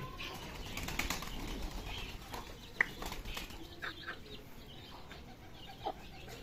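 A pigeon's wings flap in a quick flurry close by, with soft clucking and scattered outdoor rustling around it.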